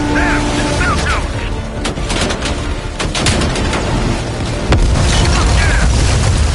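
An RPG blast in a military video game booms amid a heavy firefight, with gunfire crackling throughout and a dense, loud roar of combat noise under shouted voices.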